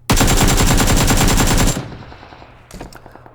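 A long rapid burst of AK rifle fire in a video game, loud and close, rattles off dozens of shots over under two seconds, then cuts to a fading tail and a few softer clicks.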